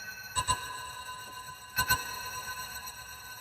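Serum 2 synthesizer Shimmer preset: two pairs of bright, ringing double hits that leave a sparkling, sustained tail of high tones, with no talking.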